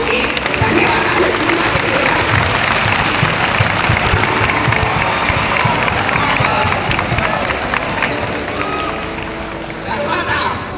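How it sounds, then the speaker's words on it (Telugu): An audience applauding to thank a Swamiji at a talk, dense sustained clapping from a large crowd filling the room, steady throughout with a few scattered cheers. "మనమందరము చప్పట్ల ద్వారా అతనికి, స్వామీజీ గారికి ధన్యవాదాలు"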